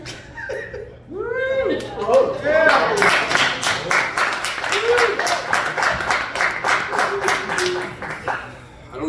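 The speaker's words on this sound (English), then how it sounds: "I don't know why you're clapping" A stand-up comedy audience breaks into a burst of clapping mixed with chuckles and laughter, and the applause carries on unevenly for several seconds before it fades.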